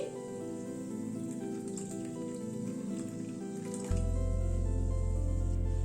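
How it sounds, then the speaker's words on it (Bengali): Hot water pours into a pot of pigeon pea (toor) dal, a steady wet splashing and trickling that swells louder partway through and carries on alone with no talk. "আর একটু গরম জল অ্যাড করছি।"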